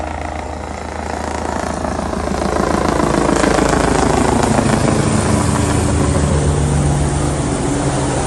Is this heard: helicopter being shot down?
yes